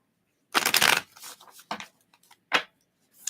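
Tarot cards being shuffled up close, a long riffling burst followed by a few shorter flicks and taps, with no talking.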